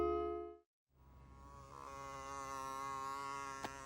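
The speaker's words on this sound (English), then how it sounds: "Dragon still wanted the fly to go outside. His ears were very tired from listening to all that buzzing." A cartoon fly buzzes in a steady, tonal drone, starting loud, cutting briefly to silence, then returning as a sustained hum that stays close and even, with a small click near the end.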